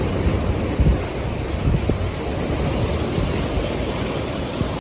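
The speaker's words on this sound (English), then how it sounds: "Love watching these huge waves." Big ocean waves break in a steady roar along the rocky Easter Island coast, loud and continuous, with gusts of wind buffeting the microphone and no voices.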